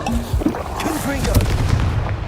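A blast spell fires in the Hogwarts Legacy video game, giving a booming burst among layered combat effects, while a voice speaks over it.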